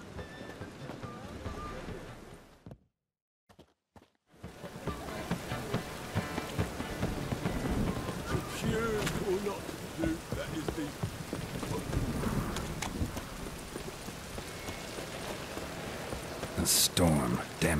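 Stormy rain in The Witcher 3 video game, a steady hiss and patter with gusting wind that cuts out briefly near the start, then resumes at a constant, moderate level.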